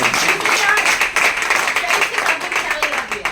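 Audience applause at a club gathering, a dense, steady wash of many hands clapping close and loud for the full few seconds, with voices mixed in underneath.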